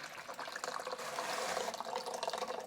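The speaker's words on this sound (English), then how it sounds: "I'm just going to dump all the water out," Water pours and splashes out of a plant container holding a monstera, a continuous close gushing stream with no break.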